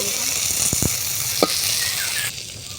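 Fish sizzles steadily in a hot frying pan, a dense close hiss throughout with a few sharp spatters and utensil scrapes, the sizzle dropping off sharply near the end.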